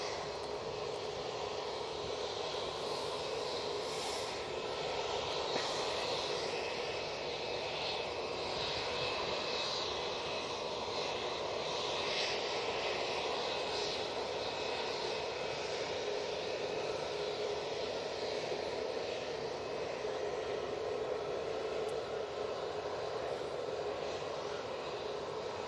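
An airliner takes off at Manchester Airport, its jet engines giving a constant broad roar that stays level and fairly distant for the whole stretch, with no talking.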